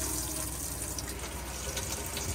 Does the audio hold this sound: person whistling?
no